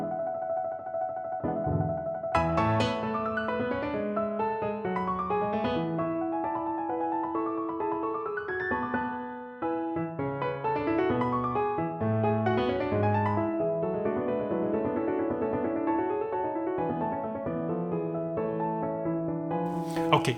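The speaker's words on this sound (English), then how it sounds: "132 for a quarter note sounds like this, played by Mr. Sibelius" Digital Sibelius notation-software playback of Beethoven's Piano Sonata Opus 101 at 132 to the quarter note, a steady stream of synthetic piano notes and chords at moderate level, no voices.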